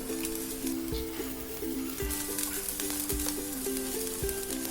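Egg poured into a capsicum ring in a hot pan sizzles and crackles steadily, with soft spattering close by and faint background music running beneath.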